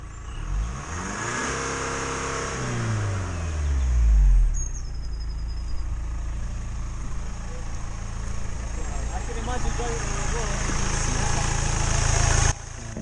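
A BMW 320d E90 diesel engine, blowing white-gray smoke, revs up and falls back in a couple of rising throttle blips, then settles into a steady close idle.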